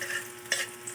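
Garlic sautéing in a hot pan gives a steady close sizzle, with one brief stirring scrape in the middle.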